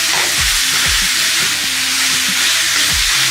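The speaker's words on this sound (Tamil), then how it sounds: "இப்போ விதக்கணும் நல்லா." Ground chicken masala fries in a pan, a steady dense sizzle and hiss running throughout with occasional stirring scrapes and clanks, close and loud, with no talk.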